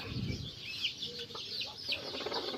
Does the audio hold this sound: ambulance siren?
no